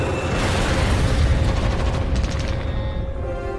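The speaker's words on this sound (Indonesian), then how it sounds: "dan pesawat itu pun meledak dengan jarak yang sangat tipis dengan posisi mereka." A fighter plane explodes in a loud, continuous roaring blast with dense rumbling low end that holds steady for a few seconds, then slowly fades out.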